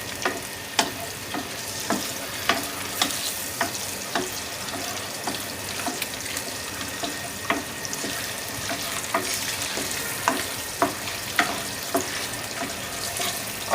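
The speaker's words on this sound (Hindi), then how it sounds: "अंडे डालने के बाद 1 से 2 मिनट इन्हें आप ऑयल में फ्राई कर लें" Eggs frying in hot oil for an egg masala curry give a steady close sizzle, dotted with sharp clicks and taps from stirring throughout, with no voices.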